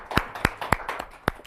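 Sparse, polite golf-style applause: a handful of separate, crisp hand claps spaced irregularly over a second and a half, close by and with no voices.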